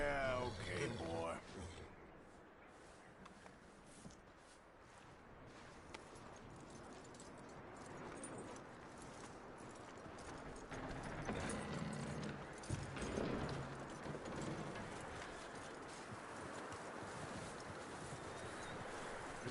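Horse hooves clip-clopping in a Red Dead western game, a steady patter of hoofbeats running under men's conversation and ambient outdoor noise.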